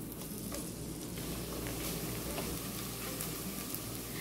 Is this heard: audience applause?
no